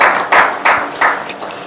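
A church congregation at a Sunday meeting claps together in thanks to God, loud bursts of applause that swell and fade in three or four rhythmic surges, close and without speech.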